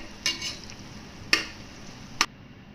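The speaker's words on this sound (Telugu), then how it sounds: "ఇప్పుడు 3 స్పూన్స్ ఆయిల్ వేసుకోవాలి. తర్వాత ఆనియన్స్ కూడా వేసి" Onions frying in about three spoons of oil while being stirred for chicken dum biryani, a soft sizzle broken by three sharp utensil knocks against the pot, close and quiet.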